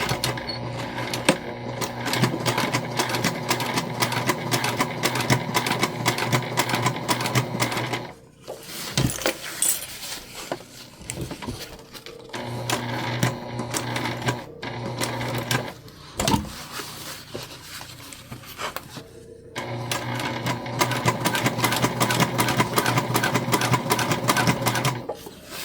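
Sewing machine top stitching an eighth of an inch around a bag, running in long, close, rapid rattling stretches broken by a few short pauses, with no talk.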